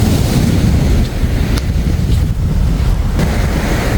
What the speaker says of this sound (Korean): 파도도 많이 치고